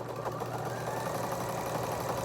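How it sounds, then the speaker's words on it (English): A sewing machine stitching a quilt runs close by, giving a steady mechanical whir with a rapid, even pulsing rhythm and no pauses. "I have taken my sewing machine and this quilt with me as I traveled for work."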